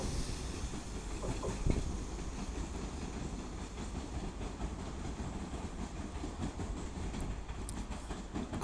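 A Transport for Wales class 197 train, unit 197 108, departing Stockport on the West Coast Main Line, steady rumble with rhythmic wheel clatter over rail joints and one sharp clank, fairly close, no voices.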